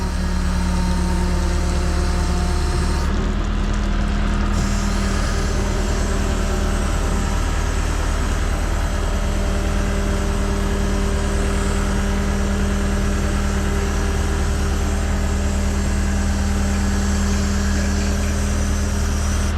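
Rollback flatbed tow truck, a Hino, unloading a flooded Honda car pulled from a pond: a loud, steady diesel engine idle with a constant low hum and a whine from the hydraulics, running alone throughout with slight shifts in pitch.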